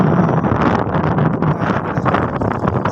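Loud, steady wind buffets the microphone with rough rumbling gusts throughout at a coastal road bridge construction site over the Davao River, no voices present.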